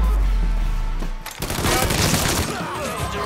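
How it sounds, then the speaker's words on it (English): Gunfire in the Mafia 3 video game: a dull low boom followed by a rapid burst of loud shots and rattling, echoing fire that fills the rest of the moment. "Wow, two shots."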